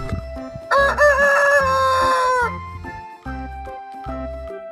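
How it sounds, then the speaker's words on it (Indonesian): A toy rooster lets out a loud, drawn-out electronic crow, followed by a few softer rhythmic pulses, part of a truck loaded with toy animals. "ini ada ayam teman-teman"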